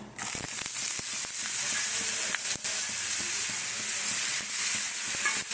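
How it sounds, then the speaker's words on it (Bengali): Potatoes hit hot refined oil and sizzle loudly and steadily, a bright crackling hiss with occasional sharp pops and clinks of stirring. "রিফাইন তেল দিয়েই হবে কিন্তু যে রিফাইন তেল দেব তেল দিয়ে এবার আলুটাকে দিয়ে দেব"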